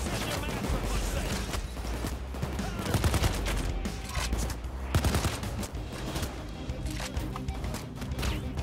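Gunfire from weapons in the video game Payday 2 rattles in dense, rapid bursts of shots and impacts, loud and close throughout, with some speech mixed underneath.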